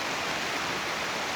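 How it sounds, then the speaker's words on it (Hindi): Heavy monsoon rain pouring in Navi Mumbai, a dense, steady broadband hiss with no breaks, loud and close like a downpour drumming on flooded streets. "तेज बारिश वहां पर हो रही है, निचले इलाकों में पानी भर गया है।"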